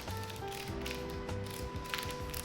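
A CNC Q2 tattoo machine runs with a steady, close mechanical buzz and a faint whine, continuous throughout with no talking.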